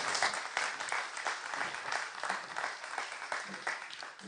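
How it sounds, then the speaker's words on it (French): At an evening business awards ceremony in Hérault, an audience claps steadily throughout, a dense, moderately distant patter that holds an even level without speech. "Applaudissements."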